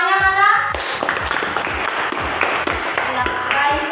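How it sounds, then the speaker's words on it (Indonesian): Applause from a fifth-grade class in an Indonesian classroom lesson, a burst of many hands clapping loudly and close for several seconds after a short voice at the start. "Iya, tepuk tangannya mana?"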